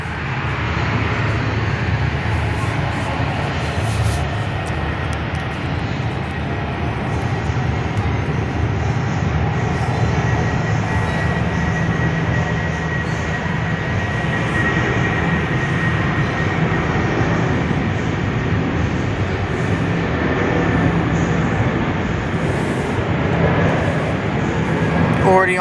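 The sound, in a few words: Qantas Airbus A330-200 airliner taking off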